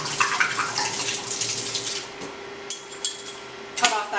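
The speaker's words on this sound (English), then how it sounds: "Give it a good shake and get that water out of there." Water sloshing and splashing as a wine bottle is shaken, a steady watery rush for about two seconds followed by a few short sharp splashes and clinks, close and alone.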